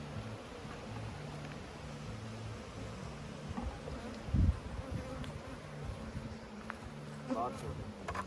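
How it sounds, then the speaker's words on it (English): Honeybees buzz in a steady, droning swarm while a beehive is opened for inspection, the hum running continuously under quiet talk, with a brief bump of handling noise partway through. "Lots of bees."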